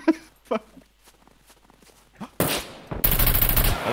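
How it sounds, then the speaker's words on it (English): Gunfire in the video game SCUM, a dense burst of rapid shots near the end after quieter footsteps and a few sharp cracks, with a voice speaking briefly over it. "Eva shot me"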